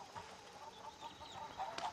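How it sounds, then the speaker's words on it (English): Chickens in the video game Far Cry 6 cluck in short, faint bursts spread across the moment, quiet and somewhat distant with no voices. "These gonna be these crazy ass chickens."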